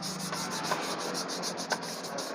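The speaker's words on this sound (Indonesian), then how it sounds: "ini kita gosoi tipis-tipis pakai remplas halus seperti ini." Fine sandpaper rubbed by hand over motorcycle paint at a street paint shop, a steady close scratchy rasp with soft rhythmic strokes and a couple of sharper scuffs, no talk.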